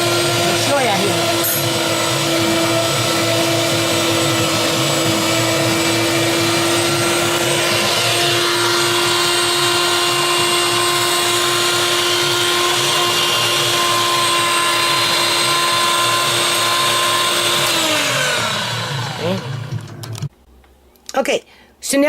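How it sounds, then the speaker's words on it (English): A vacuum sealer sealing food packages runs with a steady motor hum and whine for about eighteen seconds, loud and close, then winds down and cuts off, followed by brief handling clatter. "after I'm done doing this, I'm going to vacuum seal everything"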